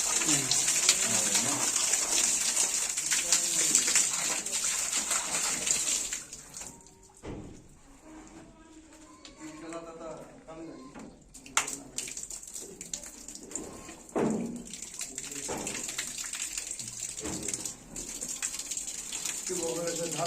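Tank-fed water gushing from a tap under good pressure, a strong close hiss that stops for a while and then resumes, with someone talking during the pause.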